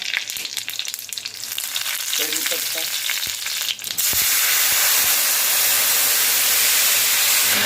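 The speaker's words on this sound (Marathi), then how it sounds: "फोडणीमध्ये आपल्याला हळद घालायची नाही आहे मोहरी चांगली खमंग फोडणी झाली पाहिजे" Mustard seeds, cumin and dried red chilies tempering in hot oil for a garlic khichdi, a loud close sizzle with crackling pops and stirring, then a sudden rush of steady hissing spatter from about four seconds on, without talk.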